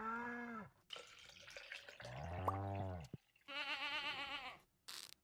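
Goats in the farming video game Stardew Valley bleat several times in a row, a series of short, clear, wavering bleats separated by brief gaps, with a small chirpy sound at the end.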